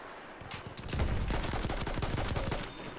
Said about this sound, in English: Right, we're getting sniped at.